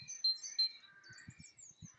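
A great tit sings in a bluebell wood, faint high squeaky notes repeating over a couple of seconds, mixed with other distant birdsong and a few soft low thumps.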